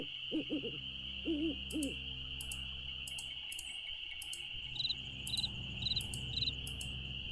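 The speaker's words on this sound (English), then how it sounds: "I hear an owl." In the Nancy Drew: Ghost Dogs of Moon Lake game, an owl gives a few soft hoots in quick succession over a steady, dense chorus of crickets and faint insect clicks in a night setting.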